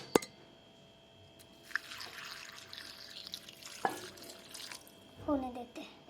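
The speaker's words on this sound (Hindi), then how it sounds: "पानी ऐड करनी है अभी।" Water is poured into a cooking pot holding onions, green chili and beans, heard as brief splashing and dripping bursts among faint kitchen noise, with a voice in the background.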